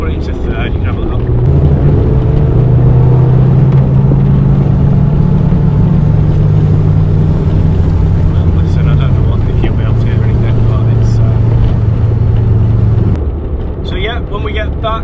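A VW Polo Mk2F car drives in third gear, its engine a loud, steady drone that rises slightly in pitch then settles, with road and cabin noise underneath and a faint voice now and then.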